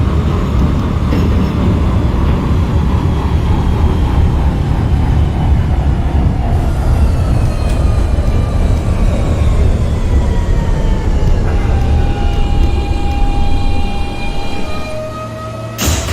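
NYC Subway R160 F local train running in the OpenBVE simulator, a loud continuous rumble of wheels and motors with rising and falling whining tones as it moves, alone without talk.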